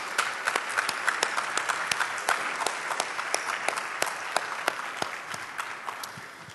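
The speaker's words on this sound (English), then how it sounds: "I'd like to have a big round of applause for Mr. Steve Shirley" An audience at a geology student reception applauds warmly, with a steady patter of many hands clapping close by that holds throughout and tapers slightly at the end.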